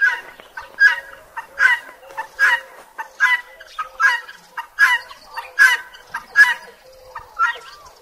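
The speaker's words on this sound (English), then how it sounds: "Guinea fowl." Guinea fowl calling on a farm, a run of about a dozen harsh, rhythmic cries repeating roughly twice a second, fairly close and clear with no talk over them.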